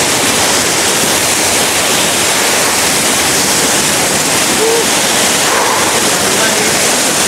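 Sekar Langit waterfall thunders close by as a dense, constant roar of crashing water that never lets up and stays loud from start to finish.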